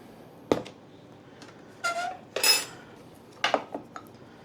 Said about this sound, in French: Et on remue tout ça.